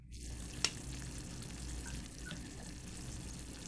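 Food bubbles and sizzles softly in a pot on a stove, a continuous low simmer with one sharp clink near the start and no talking.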